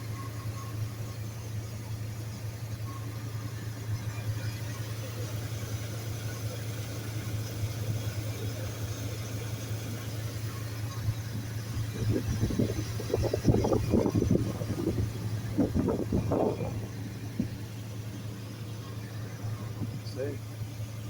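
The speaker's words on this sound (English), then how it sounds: "No knocking, smooth engine." A 2001 Dodge Ram 2500 with an 8-liter V10 idles smoothly with a steady, low, even hum, while voices talk over it partway through.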